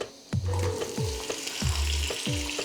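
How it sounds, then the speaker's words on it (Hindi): Potatoes frying in hot oil in a pan sizzle loudly and steadily, broken by four or five rhythmic scraping strokes of a spatula as they are tossed, close up and with no voices. "तो अब हमने ये करना है कि हमने इसको आलू को भून लेना है"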